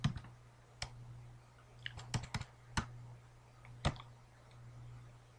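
Typing an IP address on a computer keyboard, a handful of quiet, irregular key clicks spread over a few seconds with small pauses between them, faint over a low steady electrical hum.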